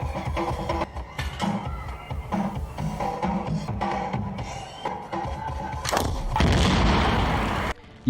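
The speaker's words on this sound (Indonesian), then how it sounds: "berhasil menembak mobil itu sehingga meledak" In a film scene, a car is shot and explodes. Dense, loud action effects build up and end in a broad, roaring blast that cuts off abruptly.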